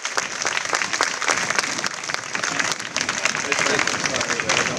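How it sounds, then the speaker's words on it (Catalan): Crowd applause at a rice planting festival in l'Aldea, dense steady clapping from many people with a few voices and shouts mixed in, sustained and fairly close throughout. "Voldria un aplaudiment per aquesta gent que està detrás d'aquest esdeveniment."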